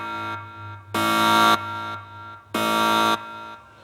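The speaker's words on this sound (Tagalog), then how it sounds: "the engine room bilge alarm sounded" An engine room bilge alarm on a ship blares in two long, loud, harsh buzzing tones, each lasting about half a second, with a steady low hum between them.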